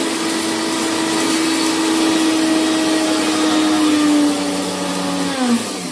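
A kitchen mixer grinder whirs steadily as it grinds roasted coriander and spices for curry leaf thokku, a loud continuous motor drone that holds for several seconds and then slows slightly at the end.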